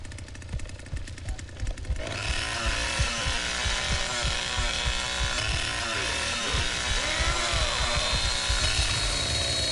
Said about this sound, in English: Fucking chainsaw overheated.